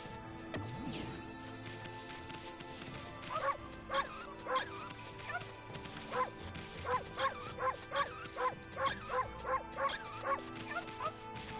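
A dog in the action game Okami barks in a rapid, regular series of short yips, steady and fairly loud over a game music bed, following some scattered earlier sounds.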